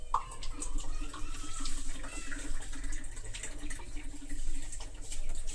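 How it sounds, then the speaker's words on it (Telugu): Water pours steadily into a cooking pot for boiling ragi (finger millet) flour laddu dough, a continuous close splashing stream with a faint meow-like squeak near the start. "ఫస్ట్ వాటరే వేసుకోవాలి"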